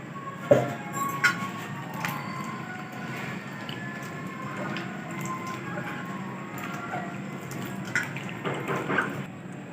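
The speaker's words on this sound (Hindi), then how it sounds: "पानी डालकर आलूओं को अच्छे से धो लेंगे" Water poured over cut potato fingers in a bowl to wash them, a soft, steady splashing and sloshing with scattered drips and clunks of potatoes shifting, fairly close and without talk.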